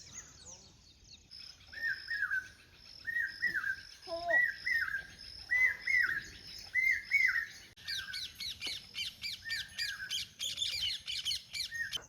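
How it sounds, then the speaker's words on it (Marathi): A flock of sparrows perched on an outdoor wire calls in repeated short chirps and squawks, fairly close and lively, with insects buzzing faintly underneath. "या तारीवर बघा किती चिमण्या बसलेल्या या."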